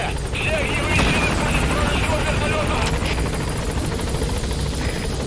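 The Pequod helicopter arrives at a landing zone in the video game Metal Gear Solid V, its rotor thrumming steadily throughout while radio voices speak over it.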